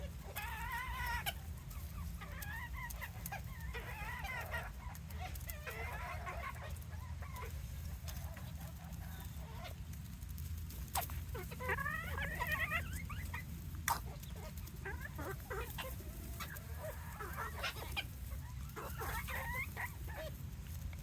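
Bantam chickens clucking and calling in a coop run, with several birds in irregular bursts over a steady low background rumble and a dog barking at times.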